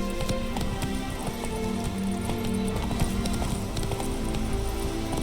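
Roach the horse gallops in The Witcher 3: Wild Hunt, a steady, fast clip-clop of hooves on the ground, close and loud, over a continuous backdrop of game music and ambience.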